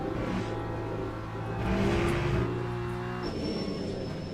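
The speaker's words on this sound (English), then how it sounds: "now I'm sliding the car way too much" A race car slides through a corner in Le Mans Ultimate, the engine droning steadily while tire scrub rises briefly before the revs settle, with a thin high whine near the end.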